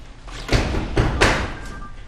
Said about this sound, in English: Mami Odessa! Open the door.